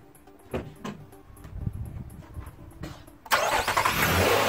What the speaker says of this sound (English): it says start engine, so we'll go and do that